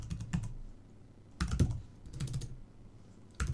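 Keys clatter on a computer keyboard in short bursts of typing, separated by quiet pauses, close and fairly soft.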